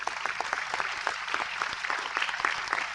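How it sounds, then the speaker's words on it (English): An indoor conference audience claps together at a biodiversity panel event, a brisk, dense round of applause heard close and steady throughout. "I think you can all give them a big round of applause"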